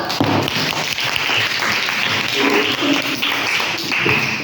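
Applause from students in a classroom, a sustained burst of many hands clapping at close range, steady and fairly loud throughout.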